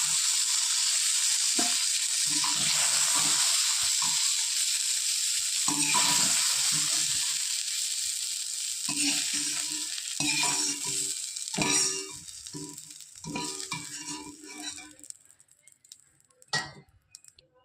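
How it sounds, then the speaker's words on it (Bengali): Eggplant fries in a pan. A loud, steady sizzle gradually thins out as pieces are stirred and lifted, with utensil clinks and scrapes becoming more distinct toward the end. "হালকা করে বেগুন ভেজে নিয়েছি, এবার আমি তুলে নেব।"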